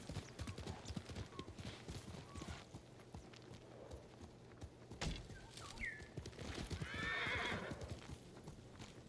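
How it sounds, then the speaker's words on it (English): A horse named Nobu in a video game clip-clops along at a steady walking-to-trotting pace, hooves close and clear, then lets out a loud, wavering neigh near the end; faint bird calls sit in the background. "The name of our horse is Nobu."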